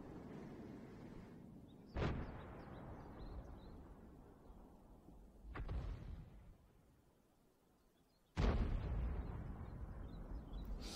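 Three heavy tank cannon blasts in World of Tanks, from the 212A, a few seconds apart, each a sharp boom fading into a long rumble, over a low steady engine drone.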